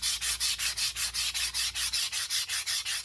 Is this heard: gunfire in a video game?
no